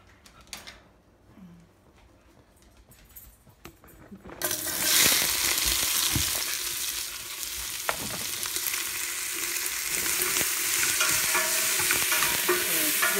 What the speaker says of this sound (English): Gonna pour a nice liberal amount, whatever amount you want, of olive oil in there. And add our leeks.